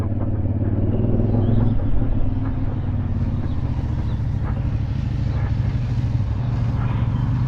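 A CFMoto 450MT adventure motorcycle on a test ride gives a steady, close engine rumble mixed with road and wind noise, holding an even level throughout with no talking.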